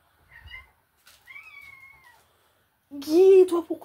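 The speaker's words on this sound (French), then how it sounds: "pourquoi tu miaules?" A house cat gives two short, thin meows, close by in a quiet room, followed by someone speaking.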